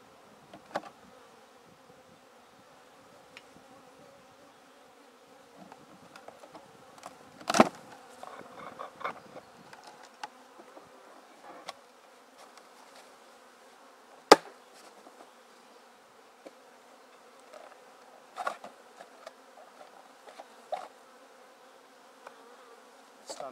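Bees crawl and buzz inside a wooden hive box, a faint low hum broken by scattered knocks and sharp taps from handling the box.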